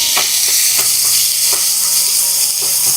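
Chopped onion frying with fennel seeds in coconut oil, a loud continuous close sizzle with faint rhythmic stirring scrapes recurring about every half second throughout.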